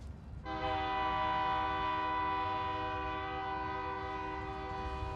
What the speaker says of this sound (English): A passing train, their wake-up call.